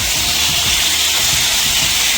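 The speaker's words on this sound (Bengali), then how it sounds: "মাছগুলো আমি পাল্টে দিয়েছি, আর একটা সাইড আমি ভালোভাবে ভেজে নেব।" Rohu fish pieces frying in oil in a pan, a loud continuous sizzling hiss, close and steady throughout with no talk.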